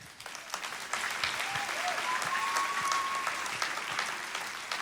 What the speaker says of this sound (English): Deserving a clap, I think.